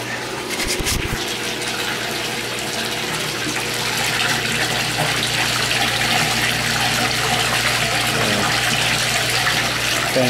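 Water pump starting up and filling a giant indoor aquaculture tank, with a continuous rushing, gushing flow and a steady low hum that grows slightly louder partway through.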